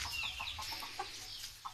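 Free-range village chickens on a small home farm cluck and chirp in a series of short, repeated calls over a soft background hum, the birds moderately close.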